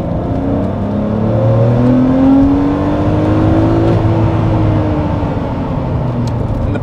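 Four-wheel-drive Lamborghini Murcielago V12 accelerating at full throttle, a loud, rising engine roar that climbs steadily in pitch through the gears and stays strong and continuous, heard close with no talking.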